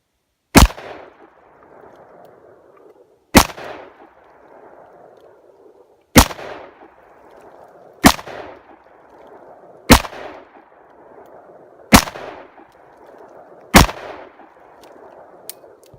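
A Smith & Wesson 686 Plus revolver with a 3-inch barrel fires .357 Magnum rounds outdoors: seven sharp, loud single shots spaced about two seconds apart, each followed by a short rolling echo.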